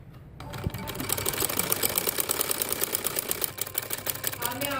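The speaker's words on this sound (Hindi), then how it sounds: "अब मैं इसको यहाँ से सिलाई लगाने लगी।" A sewing machine runs steadily for several seconds, stitching the seam of a four-panel (kali) salwar, with a fast, even mechanical chatter close to the microphone.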